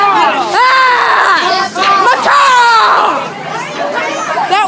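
A dense crowd chatters continuously, many overlapping voices close by with occasional louder shouts rising above the babble.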